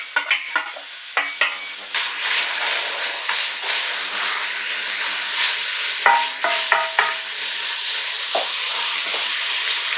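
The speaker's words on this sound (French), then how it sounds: "Une fois que notre beurre est fondu, on va commencer par y mettre les oignons pour les faire transpirer un petit peu." Onions sweating in melted butter for a red kuri squash velouté, a bright steady sizzle and hiss with clusters of spoon scrapes and taps at the start and again in the middle, close and without speech.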